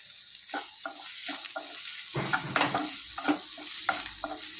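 Bitter gourd roast being stirred in a frying pan, a steady sizzle broken by repeated scraping strokes of a spoon against the pan, close and clear with no talk.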